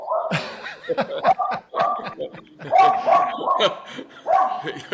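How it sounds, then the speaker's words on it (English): A dog barks repeatedly in short, loud bursts, mixed with laughter and chuckling from people nearby. "The dog."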